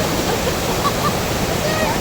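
Steady, loud rush of fast-flowing river water, a dense unbroken roar that fills the whole clip with no clear voices on top.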